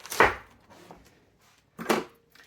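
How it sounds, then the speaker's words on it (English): A kitchen knife slices through a head of cabbage being prepared for sauerkraut, giving two distinct crisp cuts with a faint tap between them, close and clear with no talking. "You can just slice it if you want, which is what I'm going to do."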